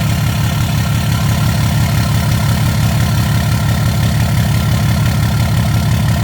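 Cummins 6.7 diesel with an MBRP muffler-delete exhaust, settling after the turbo spools down: a loud, steady low rumble with a fast pulsing throb that holds evenly throughout, near and alone.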